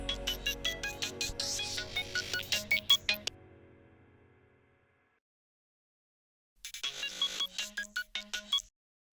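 A melodic mobile phone ringtone plays during an outgoing call, a bright repeating tune that fades out, falls silent for a moment, then starts again.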